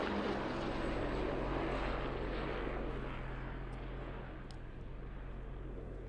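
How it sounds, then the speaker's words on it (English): A low-flying black helicopter passes overhead, a loud, steady rotor and engine roar that fades slightly as it moves away. "This is definitely a black helicopter. Oh, this guy's low, man."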